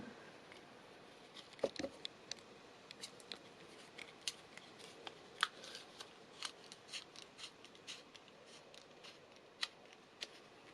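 Quiet, scraping clicks from a makeup pencil turning in a small handheld sharpener, in irregular short strokes spaced across a hushed room with no talking.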